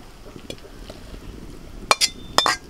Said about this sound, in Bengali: এখন ঢেলে নিচ্ছি